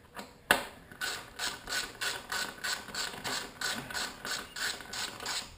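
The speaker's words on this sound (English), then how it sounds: "I do gotta get this bolt out though" Ratchet wrench backing a bolt out from under a motorcycle seat, a sharp initial click followed by a steady run of about a dozen rhythmic ratcheting strokes, close and clear with no talk.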